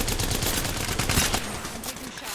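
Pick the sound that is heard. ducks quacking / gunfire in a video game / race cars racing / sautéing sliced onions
gunfire in a video game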